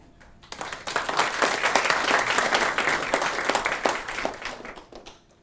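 An audience breaks into loud, sustained applause welcoming a speaker to the stage, dense clapping building quickly, holding steady, then thinning out toward the end.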